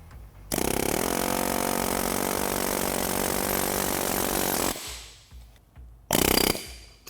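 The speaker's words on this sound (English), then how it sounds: "Once the nut is removed, I use an air hammer with a punch in the divot on the end of the pinion." An air hammer with a punch drives a pinion out of a Jeep JK axle, a loud continuous rapid rattle for about four seconds, a pause, then a short second burst close up.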